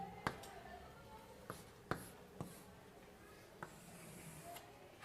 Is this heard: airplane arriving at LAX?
no